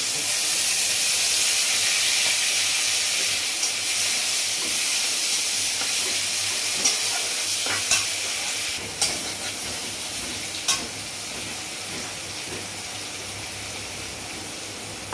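Green chillies hiss in a hot pan while cooking posto, a broad steady sizzle that slowly eases off, with a few faint clicks and taps of utensils.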